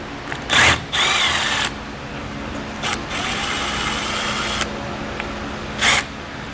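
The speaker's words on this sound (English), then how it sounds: "we're going to remove the Torx bolts that are located down here using the included T20" Power drill or driver with a T20 Torx bit backing out Torx bolts from plastic trim at the mud flap area of a 2019 Ram 1500, several short loud whirring bursts separated by pauses, close up with no talking.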